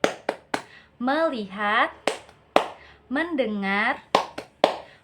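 In a classroom, children play a rhythmic focus clapping game led by a teacher. Sharp, close claps come in quick patterned bursts, alternating with a woman's chanted words.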